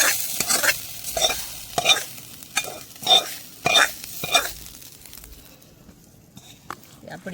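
Crushed garlic and pepper sizzling in hot oil while being tempered for a village-style raw jackfruit milk curry, with repeated bursts of crackling and stirring scrapes that fade toward the end.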